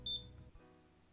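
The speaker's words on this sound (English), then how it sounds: "You look around your room, then up at the smoke detector. Did it beep?" A smoke detector gives a short, faint, high electronic chirp, a quick double pulse at the very start in the video game Lucky Day, followed by quiet room tone.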